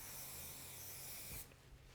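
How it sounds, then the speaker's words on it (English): Hairspray mists lightly from underneath onto hair set in hot rollers for an elegant wedding style, a steady soft hiss lasting over a second before cutting off sharply, close and alone. "what we're going to do is we're going to lightly spray from underneath"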